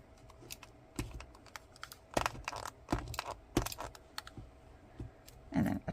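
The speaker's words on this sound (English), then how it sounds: "So I'm just going to tape these." Adhesive tape is pulled and pressed onto paper craft pieces for a folded explosion box, giving scattered sharp crackles and soft taps close to the microphone, with quiet pauses between.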